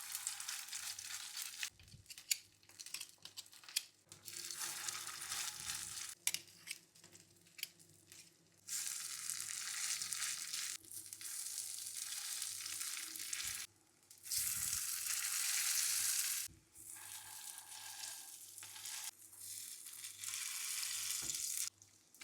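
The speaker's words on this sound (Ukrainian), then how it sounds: "Додаю трішки олії і таким способом смажую всі котлети" Loud sizzling of meatless cutlets frying in hot oil, swelling in bursts with brief quieter gaps and occasional clinks, no voices.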